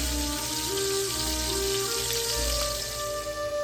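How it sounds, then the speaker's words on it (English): Short ribs sear and sizzle in a hot pan as they are flipped, a steady close frying crackle with a low hum running beneath it, no talk. "I'm now flipping my short ribs and I'm observing this beautiful crust that they develop."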